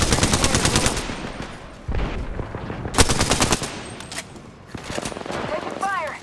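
Rapid automatic gunfire from the Apex Legends video game crackles in dense bursts with sharp peaks, mixed with game sound effects and some voice in the background.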